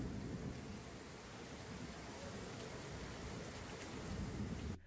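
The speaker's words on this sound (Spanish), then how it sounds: "La persistente lluvia que cayó por varias horas este domingo provocó un caos total en la ciudad" Persistent heavy rain falling on flooded city streets in the capital, a dense, steady roar of downpour that fills the whole stretch and cuts off abruptly at the end.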